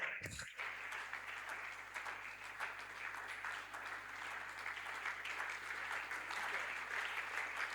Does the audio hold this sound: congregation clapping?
yes